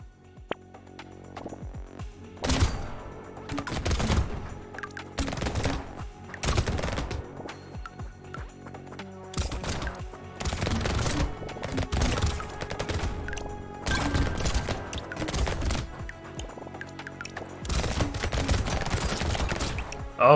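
Guns in an auto-shooter survival video game fire in dense, repeated volleys for about twenty seconds, loud bursts of rapid shots with short gaps between them.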